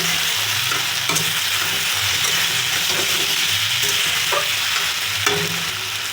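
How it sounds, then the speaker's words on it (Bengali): Chopped eggplant frying in a pan while being stirred, a steady loud sizzle with recurring scraping strokes of the spoon, no talk. "বেগুন কুচি ভালো করে নেড়ে করে দেবো"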